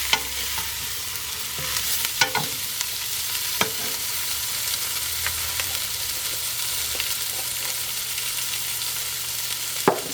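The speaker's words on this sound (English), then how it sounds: "we're going to add our meat back into the pot and any juices that may have accumulated. Give it a good stir." Jamaican curry meat sizzles in a pot, a steady close frying hiss punctuated by sparse sharp knocks of a spoon stirring against the pot.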